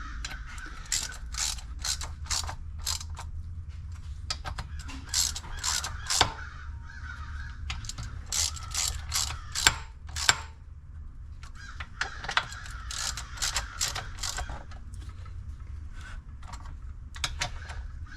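A ratchet wrench runs bolts down on a riding mower engine during a camshaft replacement, giving close bursts of rapid clicking that stop and start again with short pauses.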